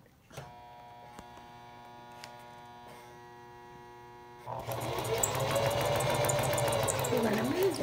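A sewing machine stitches fabric: a low hum at first, then the motor speeds up into a steady, loud, fast mechanical whir with a rapid stitching rhythm, close by.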